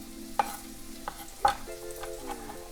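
Onions cooking in about a tablespoon of oil in a pan, a soft steady sizzle with a few scraping stirs and clinks of a utensil, close and fairly quiet.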